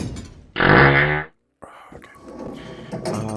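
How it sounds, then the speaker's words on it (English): A loud, buzzy fart lasts nearly a second, followed by a brief silence and then quieter room noise with faint shuffling. "I gotta fart."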